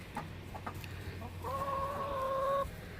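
Chickens cluck softly nearby in a short sequence, with one hen giving a longer drawn-out call, all over quiet outdoor background.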